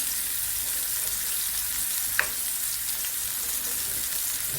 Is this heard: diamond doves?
no